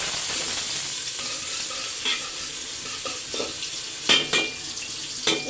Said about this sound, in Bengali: এখন পেঁয়াজ দিয়ে দেবো। একটা কাঁচামরিচ দিয়ে দেবো। পেঁয়াজটা সুন্দর করে ভেজে নেব।